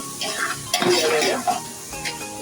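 Green chillies sautéing with crushed garlic for a Kerala-style beef stir-fry, a loud close sizzle with bursts of spoon-stirring and pan scraping through the short stretch.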